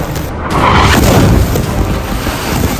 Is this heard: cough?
no